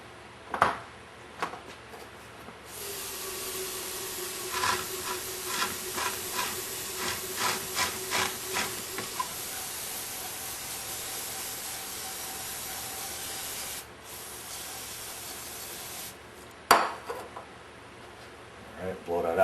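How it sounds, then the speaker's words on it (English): An aerosol can of brake cleaner hisses loudly onto a metal part during a workshop rebuild, in one long steady spray broken by short bursts and clinks, then stops with a few knocks. "After you hit it with a little brake cleaner."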